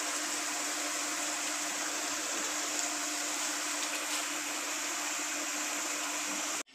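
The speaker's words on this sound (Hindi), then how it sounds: "पानी हमारा बॉयल हो चुका है," A pot of water boils for steaming eggs, giving off a steady, bright rushing hiss at an even level that cuts out abruptly at the very end.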